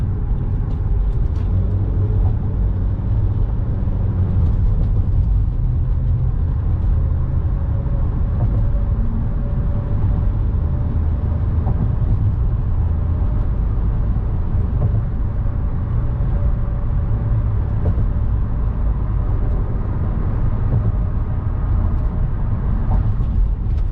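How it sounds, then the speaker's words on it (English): Steady low rumble of road traffic heard from inside a moving vehicle, a continuous engine and tire drone with faint passing swells and no talk. "Traffic here, but not as much."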